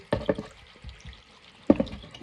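Water poured and splashing while meat fat is washed, a few short bursts of pouring with a quieter gap between them, close by.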